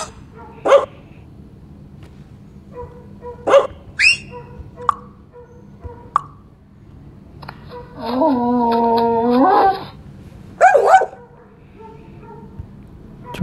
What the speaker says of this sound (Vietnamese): Chó đang yêu quá ta.